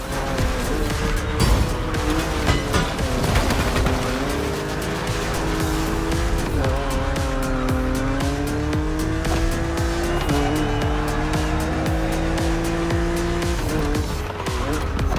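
Cars racing in the video game The Crew Motorfest, with a loud, close engine roar rising and falling through gear shifts and tires squealing and skidding through turns, continuous and heavy throughout.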